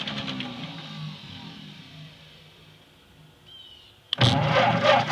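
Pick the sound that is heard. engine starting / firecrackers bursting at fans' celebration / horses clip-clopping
engine starting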